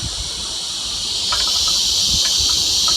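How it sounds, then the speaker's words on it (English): Cicadas sing outdoors in a continuous high, shimmering buzz that holds steady throughout, with faint low rustling and occasional soft clicks beneath. "I'm getting serenaded by some cicadas right now."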